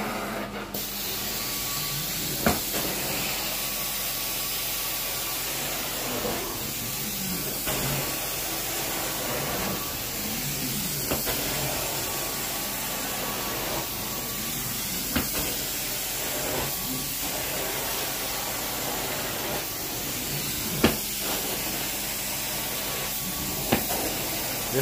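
A continuous hissing spray of carpet cleaning chemical onto a pet stain runs throughout, steady and close, with occasional sharp clicks and knocks in the background.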